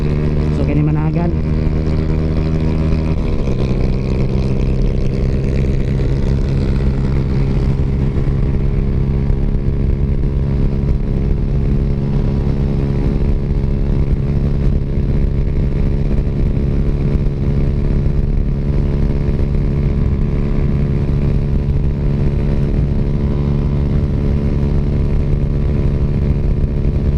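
Steady, loud engine and exhaust drone of a Suzuki Raider J115 Fi motorcycle while riding on a long ride, a continuous hum with a brief pitch change early on, then holding constant.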